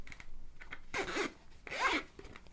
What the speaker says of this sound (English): inside of here, you got this zip case, this travel carry case